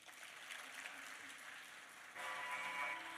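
Faint, distant applause from the audience for dancers at an Arangetram performance. The clapping is a soft, even wash that grows slightly louder near the end.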